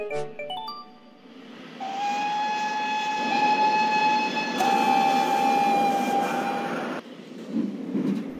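A heavy steam train pulls out of a platform, a long steady whistle tone sounding over rumbling engine noise that builds, then eases off.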